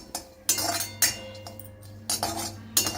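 Tamarind dry-roasted and stirred in a pan for instant rasam mix, with sharp metallic clinks of the spoon against the pan at irregular intervals over a quiet background.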